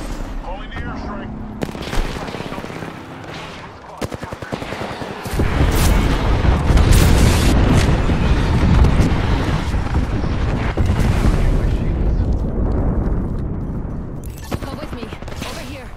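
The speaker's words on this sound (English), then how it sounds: "Calling the airstrike." Airstrike in Apex Legends pounding down as a long, dense barrage of explosions and rapid gunfire, building into a loud, continuous roar mid-stretch with sharp cracks scattered through it.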